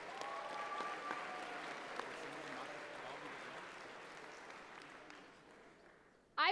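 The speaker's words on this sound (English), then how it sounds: "Let's give them a round of applause." Audience at a 2016 state FFA convention session applauds with sustained, dense clapping that fills the hall, then thins out and fades toward the end.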